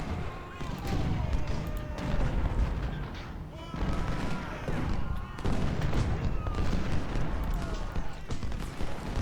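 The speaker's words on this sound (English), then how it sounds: "his artillery is firing on my skirmishers" Civil War-era artillery firing in Ultimate General: Civil War, repeated booms and rumbling cannon reports layered over a dense, continuous battle din.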